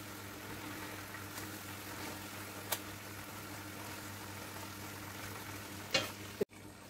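Pork steak sizzles steadily in a pan with a faint constant frying hiss, a few light clinks of stirring, and a sharper scrape or lid knock near the end.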